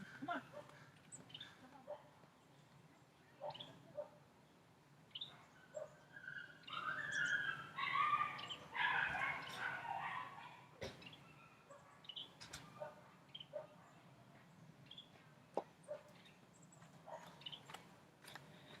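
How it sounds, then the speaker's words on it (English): A dog whimpers and whines in a thin, strained burst partway through, amid scattered soft knocks and faint background voices. "Did you hear that dog? That dog is in duress."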